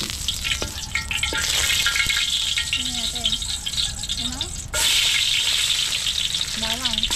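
Vegetables for pancit sauté in a hot pan with a loud, continuous sizzle and occasional rattles of a utensil against the pan, while voices talk over the cooking.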